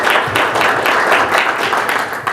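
Dense, loud applause from the audience at a Bristol Sports Hall of Fame event, continuous and close, with no pauses.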